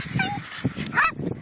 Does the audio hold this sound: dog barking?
yes